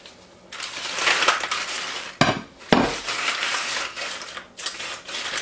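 Crunchy tortilla chips are dropped and shuffled onto a baking pan in short crisp bursts of rattling and crackling, a couple of sharper clatters standing out, close by with no talking.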